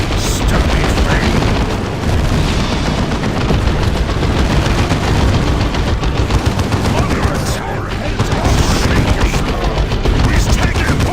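Dense, continuous battle noise from the Dawn of War II Retribution strategy game, with rapid gunfire, machine-gun bursts and booming blasts layered over each other at steady loudness, with shouted game voices mixed in.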